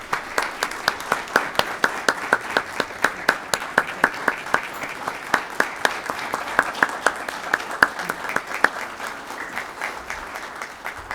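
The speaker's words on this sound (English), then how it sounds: "a big round of applause" Attendees at a formal school board meeting applaud the board members; a small crowd claps steadily, with sharp individual claps standing out in a loose rhythm over about eleven seconds.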